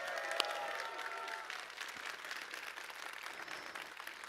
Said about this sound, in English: be joined by the one and only Jeff Keighley, so let's give him a big round of applause.